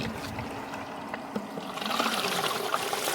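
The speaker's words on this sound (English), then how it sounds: "I'll pour a bucket down this" Water from a bucket pours down into a culvert, a soft trickling and splashing that builds slightly toward the end, heard alone at moderate distance.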